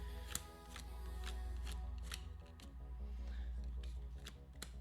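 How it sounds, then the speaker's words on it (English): Fish cards for the Finspan board game by Stonemaier Games are shuffled quietly up close, giving a steady run of crisp riffling clicks and flicks over a low background hum. "but I'm just going to shuffle these real quick."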